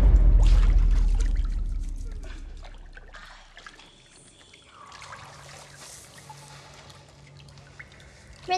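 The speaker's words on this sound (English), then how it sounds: "Rinsing." Water rinsing and trickling during a makeup session, opening with a loud splashing pour that fades into softer dribbling and drips, with a faint steady hum underneath.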